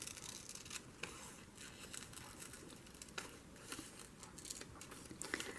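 Scissors fussy cutting a paper image for a glue book, with soft, faint snips and light paper rustling close by, repeating irregularly over a quiet room.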